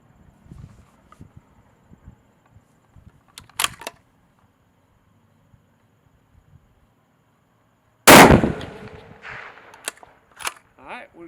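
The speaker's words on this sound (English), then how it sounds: "I'm going to make my first shot." A single sharp 6.5 PRC rifle shot cracks loudly at a 500-yard target after a quiet stretch, then rings out and echoes as it fades, with faint soft handling noises before it.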